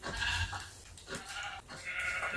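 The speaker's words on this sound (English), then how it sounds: "Sheep." Sheep bleating in Minecraft, a few wavering, nasal baa calls in quick succession, close and fairly loud with no talking over them.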